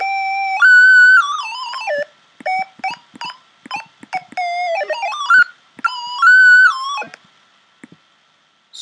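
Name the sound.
triangle wave tone from Chrome Music Lab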